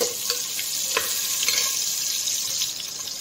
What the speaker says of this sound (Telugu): ఉల్లిపాయలు కొంచెం వేగాలండి.